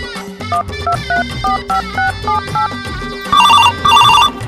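A telephone rings in repeated electronic bursts, a melodic ringtone pattern that grows louder and more insistent toward the end, with no talking.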